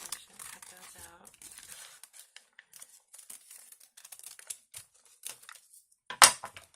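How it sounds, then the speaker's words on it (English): Scissors snipping small paper flower shapes for an Easter rosette wand craft, a run of soft, irregular cuts and crinkles that ends with one louder rustle of paper. "I'm just going to cut those out."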